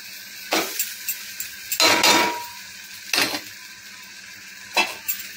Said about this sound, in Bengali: এবার এর মধ্যে আমি কচু ভেজে রাখা কচুটা এর মধ্যে দিয়ে দিলাম।